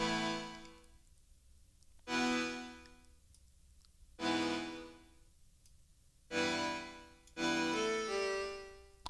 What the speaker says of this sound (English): It's free and flex. I think it's called blue accordion or something.